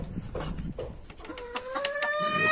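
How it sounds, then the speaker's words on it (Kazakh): A young rooster crows in a run-down barn among hens, clucks and rustling first, then a rising, drawn-out crow that carries on to the end, close and fairly loud. "Әтеш жұмысын жасап тұр, айқайлап тұр."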